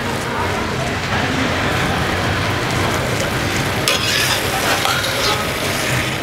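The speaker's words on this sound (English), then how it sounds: "So give it a little stir." Sardine curry with okra and aubergine being stirred in a pan, a steady close sizzle and soft scraping running the whole time with no pauses.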